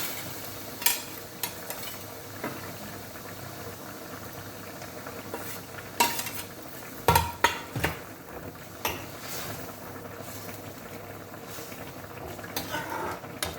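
A fish head fries in a pan with a little water, giving a soft, continuous bubbling sizzle, broken by several sharp clinks and clatters of a utensil against the pan.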